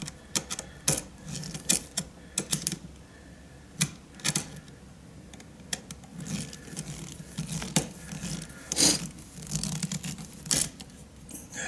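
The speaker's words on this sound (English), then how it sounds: "Now we're going to tighten the screw up." A screwdriver tightens the terminal screw on an electrical outlet during a swap from a two-prong to a three-prong receptacle, giving sparse, close, faint clicks and scraping twists spaced irregularly, with no talking.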